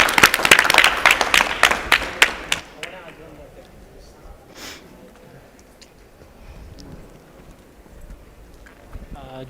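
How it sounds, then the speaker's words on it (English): At a World Urban Forum panel in Abu Dhabi, a short burst of audience clapping starts strong and thins out within a few seconds. Quiet room tone with faint murmuring follows. "let's give a round of applause, please, for Rasmus one more time."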